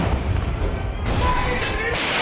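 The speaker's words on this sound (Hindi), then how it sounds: "ये पहली बार हुआ जब ध्वजारोहण के दौरान स्वदेशी 105 मिलीमीटर लाइट फील्ड गन से 21 तोपों की सलामी दी गई।" A 21-gun salute fired from indigenous 105 mm light field guns during the Independence Day flag hoisting at the Red Fort, heard as loud, dense rumbling booms that fill the scene continuously.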